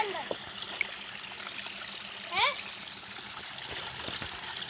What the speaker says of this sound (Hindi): ये कितना अच्छा पानी चल रहा है।